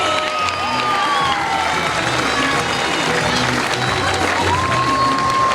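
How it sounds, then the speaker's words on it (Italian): At a festival palio, a large outdoor crowd applauds and cheers children, with continuous dense clapping, shouts and whistles carrying on unbroken. "Applausone a questi bambini! Applausi forte!"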